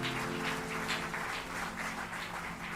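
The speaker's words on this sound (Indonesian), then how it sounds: "Boleh berikan tepuk tangan buat Tuhan." Applause from a congregation during a church worship service, a steady broad patter of clapping hands sustained throughout, moderately loud and continuous with no pauses.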